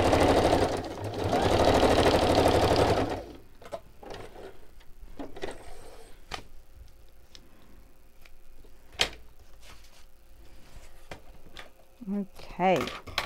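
A sewing machine stitches fabric pockets closed for a craft kit project, a loud, steady motor whir for about three seconds before stopping, followed by quieter handling noises and a person talking.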